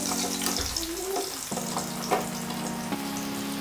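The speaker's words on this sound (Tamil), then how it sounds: "எண்ணெய் சூடாயிட்டு இப்போ நம்ம பொட்டேட்டோ இதில் போட்டுடலாம்." Potatoes fry in hot oil for a chicken salad, with a moderate bubbling sizzle close by. A few utensil clinks and a faint background hum run through it, and no one speaks.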